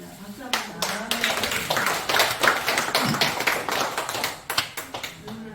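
A crowd claps hands together at a Christian women's worship service held in the National Assembly prayer room. The applause is dense and steady for several seconds, with voices mixed in.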